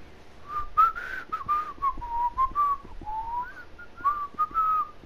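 A person whistles a wandering melodic tune, clear and close, with short breaks between phrases and no talk over it.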